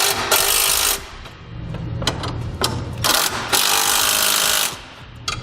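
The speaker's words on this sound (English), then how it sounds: "Now with all the bolts loosely installed," Ratchet snugging down the mounting bolts of a Bulldog Powersports Series ATV winch on a 2016 Polaris, with bursts of close, rapid clicking separated by short pauses.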